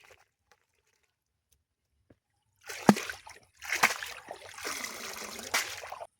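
Drumstick (sajne) leaves rinsed by hand in water, a few close splashes and sloshes in short bursts after a quiet start, then continuous swishing and trickling.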